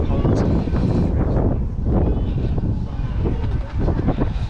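Rumbling train ride on a light rail line near Knowsley, with steady broadband motion noise and wind buffeting the microphone throughout.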